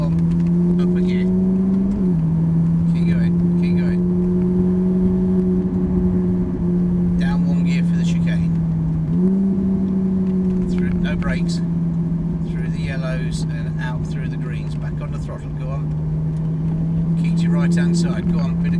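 Ferrari 458 Italia V8 on a track, holding a steady loud drone that dips briefly at each upshift as it pulls through the gears, with a voice talking over it throughout.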